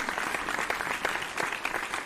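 Dense, steady clapping from an audience celebrating the winner of a Power BI challenge, sustained across the whole moment without a break.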